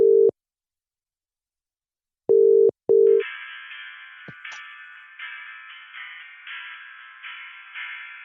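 Telephone line tones when calling an advice line: a single short beep, a pause, then two more beeps, followed by a steady buzzing tone that carries on to the end, clear and alone.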